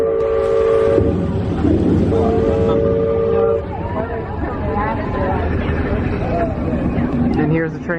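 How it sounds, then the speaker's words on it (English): A theme-park train rolling past at Magic Kingdom, with steady rumble, a sustained whistle-like tone early on, and crowd chatter and voices throughout at close range. "And here's the train coming by."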